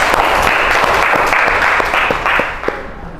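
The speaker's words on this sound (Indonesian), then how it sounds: "tepuk tangan untuk Farhan" Students in a classroom give a short burst of applause for a classmate, the clapping loud and close at first, then thinning out and fading within about three seconds.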